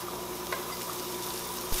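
Chopped regular onions stir-frying in a home fry pan, a steady close sizzle with a faint scrape of stirring and a slightly louder clatter near the end.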